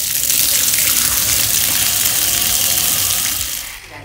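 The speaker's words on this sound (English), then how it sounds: "I'm quickly going to jump into the shower, wash my hair" A home shower runs at full force, a loud, dense, continuous hiss of spraying water close by that tapers slightly near the end, with no talking.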